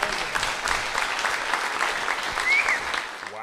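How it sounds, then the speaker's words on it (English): An audience at a talk on tenant law claps steadily for a few seconds, a dense, fairly soft patter of many hands that fades out at the end. "Give me a big round of applause for Paul."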